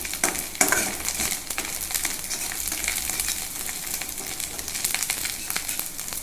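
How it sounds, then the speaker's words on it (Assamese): Fish roe with sandhaguri fries in a pan over a lowered gas flame, a steady close sizzle with crackling pops throughout. "ফ্ৰাই হৈ গ'ল আমাৰ মাছৰ কণীখিনি"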